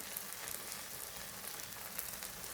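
Chili and coriander powder sizzle steadily in a hot pan for a fish curry with coconut and tomato, a continuous close hiss and crackle with no talk.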